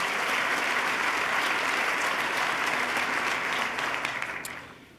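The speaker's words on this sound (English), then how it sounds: "let's give him another round of applause" A large audience applauds at a New York State of the State address in honor of Governor David Paterson, a dense, steady roar of clapping that holds for several seconds before fading out.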